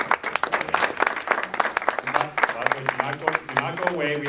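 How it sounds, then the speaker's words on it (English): A conference audience gives a round of applause at a hate crimes and conflict resolution event, uneven distinct claps close by, mixed with a voice speaking over them. "we want to give them a big round of applause"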